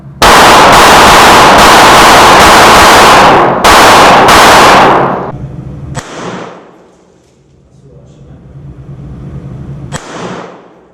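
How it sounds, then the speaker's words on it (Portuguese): A rapid string of loud, close gunshots hammers armored car glass in a ballistic test, firing in a dense burst, then a brief pause before a few more shots, followed by two isolated cracks with quiet gaps between. "foram 20 tiros no vidro e ele continua em pé"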